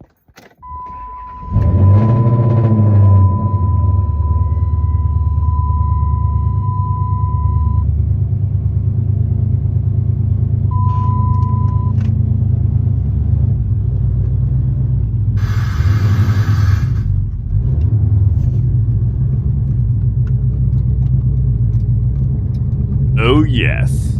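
A 2008 Dodge Daytona Charger starts with a jangle of keys, and its engine settles into a loud, steady rumbling idle as the car backs up, close by throughout.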